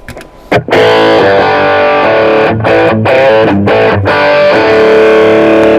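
A thick, heavily overdriven electric guitar through a Bogner Ecstasy amp's crunch channel with an overdrive boost pedal plays loud chords, mixing choppy rhythmic stabs with longer sustained notes, close and dense.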